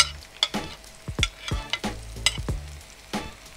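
Onion frying in a pan on a televised cooking show, a soft sizzle broken by several sharp, close stirring scrapes and knocks at irregular intervals.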